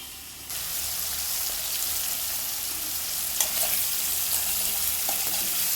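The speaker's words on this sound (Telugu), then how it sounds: "ఇది బాగా ఫ్రై అవ్వాలి ఫ్రై అయినంత వరకు ఇలానే ఉంచుతాను" Prawn pieces frying in a pan over medium heat, giving a bright, steady, continuous sizzle that begins abruptly and holds at a constant level, with a couple of faint utensil taps.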